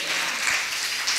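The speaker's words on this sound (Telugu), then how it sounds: "చప్పట్లు కొట్టి స్తోత్రం చెప్దాం" A church congregation claps in praise during a service, giving a dense, continuous burst of applause at close range with no speech over it.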